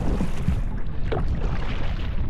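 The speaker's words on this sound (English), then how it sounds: "I don't even know if you can hear me, the wind's blowing so hard." Strong gusty wind buffets the microphone with a constant roaring rush, loud and close, with no voices.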